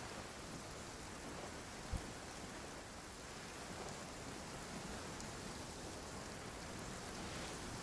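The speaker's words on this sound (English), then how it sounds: "Downpour." A steady, hissing downpour of rain fills the scene in the video game Genshin Impact, faint and unbroken, with a single brief low thump early on and no talking.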